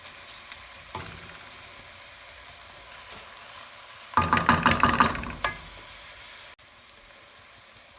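Onions frying in a pan for a pasta sauce give a low, steady sizzle, then a loud burst of stirring clatter and crackle midway before it settles back to a quiet fry.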